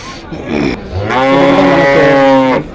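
A cow at the Punganur cattle market lets out a single loud, close moo lasting about two seconds, with no people talking.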